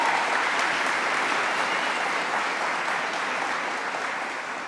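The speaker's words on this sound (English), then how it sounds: "Let's give her a round of applause." An audience applauds at a state governor's mental health announcement, steady clapping of a medium crowd with no voices over it, slowly fading toward the end.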